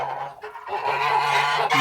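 Geese, including 50-percent Kholmogory crosses, call with a few harsh honks and cackles close by, the ganders chasing the others in a crowded flock; calls overlap in a short busy burst without talk.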